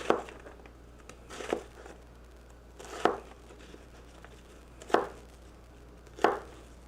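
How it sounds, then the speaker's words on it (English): Knife dicing vegetables on a cutting board while making black bean chili: five sharp chopping thumps spaced about one and a half seconds apart, close and crisp over a quiet kitchen background. "Now, when I cut this, I want to get perfect dice."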